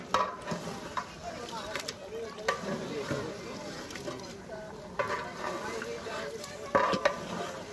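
Beef being stirred in a large uncovered pot over heat, with a batch of about 40 kg for a Rajbari-style braise, giving repeated scraping and stirring strokes over a steady sizzle while a voice talks throughout.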